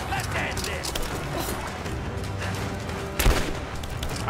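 Gunfire in the video game Rise of the Tomb Raider, a dense, continuous rattle of shots with one heavier blast near the end, mixed with game ambience.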